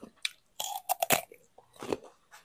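Crisp crunching bites and chews of a spicy Thai glass noodle squid salad, close to the ear, a burst of several sharp crunches in the middle followed by a softer chew, with no talking.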